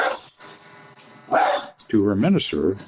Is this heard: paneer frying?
no